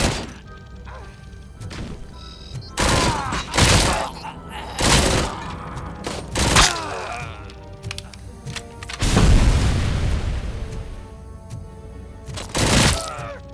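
In the video game Robocop: Rogue City, a powerful weapon fires heavy booming shots, with loud bursts and crashing impacts coming in irregular bursts separated by short pauses.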